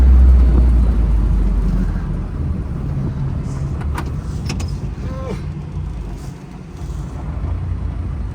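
An old UAZ-469 military off-road vehicle's engine rumbles low and steady while driving slowly, with rattles and faint clicks over the rough, continuous road noise.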